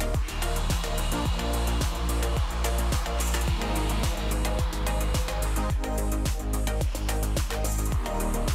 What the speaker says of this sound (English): we're gonna apply the sander again to clean off the excess.